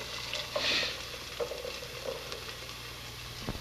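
Chopped onion sautés in olive oil in a big pot: a soft, steady sizzle with light stirring clicks and scrapes, close and moderately quiet, with no talking.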